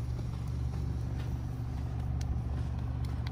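A car's engine drones low and steady while its wheels spin, stuck in beach sand beside an icy ocean, a continuous close rumble with no break.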